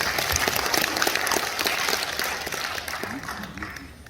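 Crowd applause at a Korean memorial ceremony marking the March 15 uprising anniversary in Gwangju, a dense, fairly loud wash of clapping that gradually thins and fades over a few seconds.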